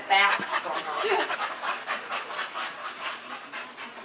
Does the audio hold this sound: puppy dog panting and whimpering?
yes